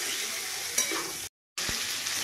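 Food frying in a pan, a close steady sizzle with a light scrape from stirring, briefly cut to silence before the sizzle resumes, no voices.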